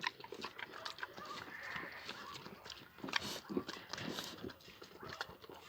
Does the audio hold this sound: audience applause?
no